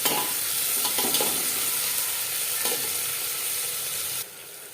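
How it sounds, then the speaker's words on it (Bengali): Onions frying lightly in a pan for an aloo mutton curry, a loud continuous sizzle with a few stirring scrapes, ending abruptly as the sound drops off. "পেঁয়াজ আমি হালকা করে ভেজে নেব"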